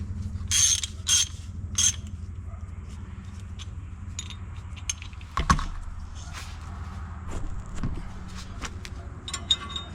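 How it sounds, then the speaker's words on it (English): A ratchet wrench torques exhaust bolts during an RR Racing exhaust install on a Lexus IS500, giving sparse close metallic clicks and a few clanks over a low steady hum, with no talk. "let's just torque her down to spec"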